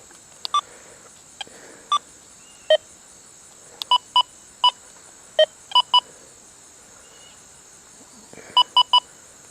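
Repeated short, bright beeping tones from a Deus 2 metal detector swept quickly over a small gold ring, about a dozen sharp chirps in irregular bursts with no talking.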